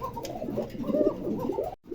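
Pigeons cooing close by in a pet market, a soft, throaty, warbling coo that rolls on for nearly two seconds before breaking off.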